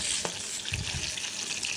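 Oil sizzles steadily as pangas fish pieces fry in a pan, with a few soft clinks and stirring noises; no one speaks.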